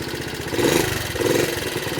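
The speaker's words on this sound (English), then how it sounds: "the engine is running" A 1976 Honda CT70 motorcycle engine runs at idle despite its off switch being in the off position, giving a steady, close, mid-pitched putter with a slight swell partway through and no talking.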